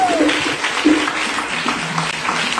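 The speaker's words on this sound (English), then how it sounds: "clap your hands with Jesus" A church congregation claps along during a lively worship service, a steady mass of hand claps filling the room with sung or shouted voices rising over it.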